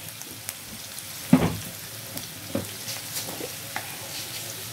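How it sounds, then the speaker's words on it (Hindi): Onions, green chillies and cumin frying in a pan: a quiet, steady sizzle with scattered crackles and a few clinks of stirring, no voices. "साथ में प्याज फ्राई हो रहे हैं"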